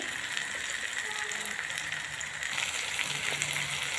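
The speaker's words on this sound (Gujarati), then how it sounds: "એકદમ તાપ ઓછો રાખીને શેકું છું" Buttered corn roasts in a pan over low heat for corn bhurji, giving a steady, even sizzle with soft crackles that continues unbroken throughout and is heard close up without talk.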